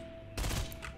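A single loud Intervention sniper rifle shot in the Fortnite video game, a sharp broadband crack followed by a short rumbling tail, with no talk over it.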